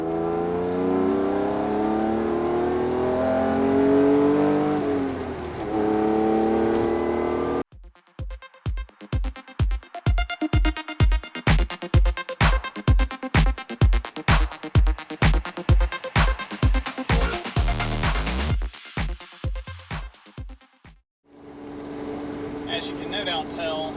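A car pulls away after a pit stop at VIR, with a Ferrari on track, its engine note rising and falling in a fast series of rhythmic pulses as it accelerates, preceded by a loud steady drone.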